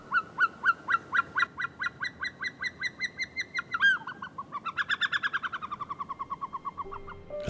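Snowcocks calling in the Caucasus Mountains: a long run of loud, evenly spaced honking notes, then a quicker, rising series of cackling calls before fading.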